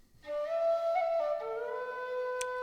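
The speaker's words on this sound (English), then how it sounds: "We have low whistle phrases." Sampled low whistle phrase from an orchestral library, a breathy tin-whistle-like tone that slides between a few sustained notes, solo and fairly clear, ending in a brief click.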